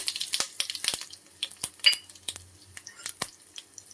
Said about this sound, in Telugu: ఆయిల్ హీట్ అయ్యాక ఆవాలు వేసుకుని, ఆవాలు కొంచెం చిట్పట్లాడాక